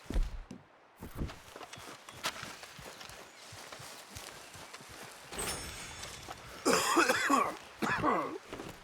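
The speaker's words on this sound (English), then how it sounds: "hearing Arthur cough more when you smoke a cig" Arthur, the character in Red Dead Redemption 2, coughs repeatedly after smoking a cigarette, a run of close raspy coughs and throat clearing over game ambience with footsteps and horse hooves.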